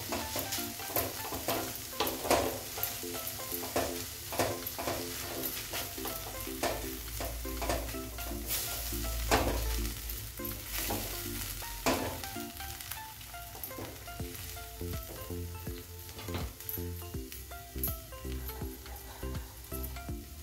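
Fresh fenugreek leaves sizzle in a hot pan while a spoon repeatedly scrapes and clinks against the metal, stirring them for a paneer matar curry; the frying hiss runs continuously beneath the irregular stirring knocks.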